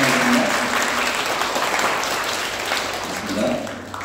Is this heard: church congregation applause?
yes